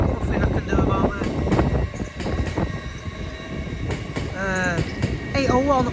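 Class 801 Azuma trains at Doncaster station rumble and roll through steadily, with wind noise over the microphone and faint squealing tones from the wheels, close and continuous.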